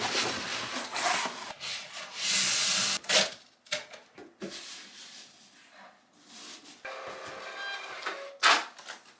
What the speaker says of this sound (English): I still have to print out the labels, so let me do that real quick.